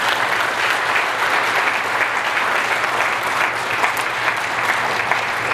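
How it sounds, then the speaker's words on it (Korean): A room full of people applauds at a professor's retirement farewell, sustained even clapping that holds at a steady loud level for several seconds, with no speech on top. "박수 한번 보내주시죠."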